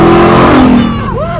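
A 1971 Chevrolet engine at full throttle during a launch control start, a loud close roar held steady and then sweeping up in pitch as it revs, with a voice briefly over it.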